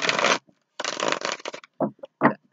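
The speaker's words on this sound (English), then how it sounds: "Ooh, I didn't like that shuffle." Tarot cards shuffled by hand in several quick riffling bursts, the first two longer and crisp, followed by three shorter flicks with brief silences between, close and clear with no talk.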